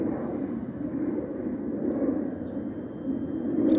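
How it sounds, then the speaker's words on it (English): An airplane passes overhead at a street corner in a town, giving a steady low engine roar that swells slightly toward the end, with no voices. "Airplane flying right over."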